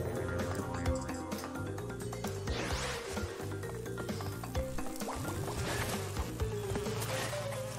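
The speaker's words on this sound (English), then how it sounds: "Okay, the bees don't follow me over here." Buzzing bees from the video game Crash Bandicoot 2 drone continuously alongside the game's music and sound effects, a layered insect whine that swells and dips over several seconds with no talk.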